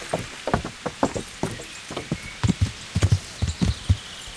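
In the video game Kingdom Come: Deliverance, rhythmic horse hoofbeats clip-clop steadily at a walking pace, moderately loud with a soft ambient background.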